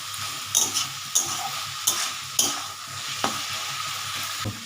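Peanuts fry with a steady sizzle in a pan while a utensil stirs them, giving sharp scraping clicks about every half second to a second over a constant low hiss.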